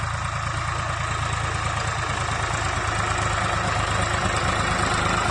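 A tractor engine idles steadily while fertilizer is being sown on a farm field, giving a continuous, even low mechanical rumble with a close, unbroken drone throughout.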